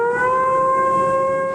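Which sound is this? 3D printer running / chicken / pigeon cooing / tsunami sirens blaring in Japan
tsunami sirens blaring in Japan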